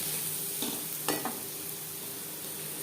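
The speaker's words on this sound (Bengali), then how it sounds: "পেঁয়াজ অবশ্যই লালচে করে ভেজে নিতে হবে" Onions sizzle steadily in oil as they fry until reddish for a chichinga (snake gourd) dish, and a few light clinks of the stirring spoon sound against the pan.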